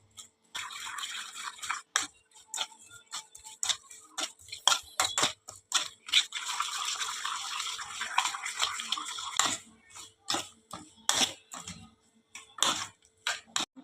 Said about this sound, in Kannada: ನೀರನ್ನು ಸ್ವಲ್ಪ ಸೇರಿಸಿಕೊಳ್ಳಿ.